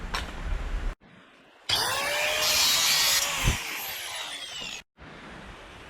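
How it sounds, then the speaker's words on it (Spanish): Angle grinder cutting a metal bar, a loud high-pitched whining grind lasting about three seconds between brief pauses, with softer tool noise at the start and end. "lo vamos a cortar de 60 con la moladora"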